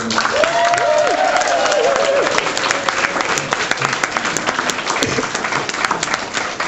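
Wedding guests applaud loudly and continuously, a dense even roar of clapping with some cheering and whistles rising over it, close and sustained throughout.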